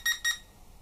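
Two quick high electronic beeps in succession from a JJRC H44WH drone transmitter's speed button, crisp and close, followed by near silence.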